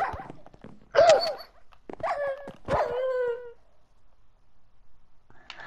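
Several short barks and yelps from a dog in the Minecraft video game come in separate bursts with gaps of silence between them, loud and close, with no talking.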